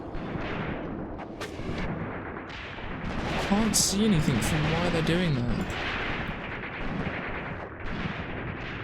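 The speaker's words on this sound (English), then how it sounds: "the cannons are firing" Cannons and mortars fire in Graviteam Tactics: Mius Front, a WWII battle near Odinstov, with repeated booming artillery blasts and gunfire crackling through the battle din while someone talks over the action.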